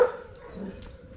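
Pit bull dogs growling and barking at each other nearby, a low continuous rumbling growl with a few short barks breaking through over 1 second.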